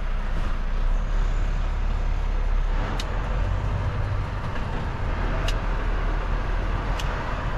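Steady low rumble of a meat delivery truck's engine as it slowly manoeuvres out of a narrow, car-lined street, continuous and close with a few faint clicks, no talk.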